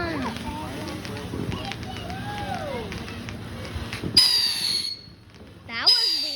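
Fireworks at a display let out screeching, whistling, bird-like squeals, one rising burst and another near the end, over crowd noise and people talking nearby.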